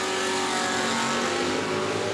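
Drag racing cars at a $15K Spring Fling event, one of them a Mustang, roar steadily and loudly for about two seconds in a dense, continuous engine blare with no pause or talk.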